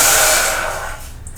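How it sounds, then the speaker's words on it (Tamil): A loud, steady rushing hiss of water heating toward a boil in a saucepan, like steaming, gradually fades and softens. "தண்ணி சூடாகி பபிள்ஸ் வர்றக்கு ஆரம்பிச்சிருச்சு"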